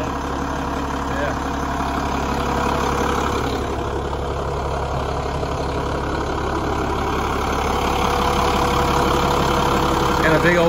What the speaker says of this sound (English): Got a big old Cummins diesel there